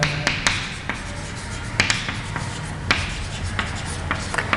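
Chalk or marker taps and scratches across a board during a maths lesson, a scattering of short sharp strokes at irregular intervals over a quiet room hum.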